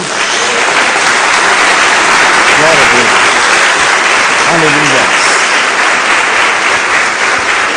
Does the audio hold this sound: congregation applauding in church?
yes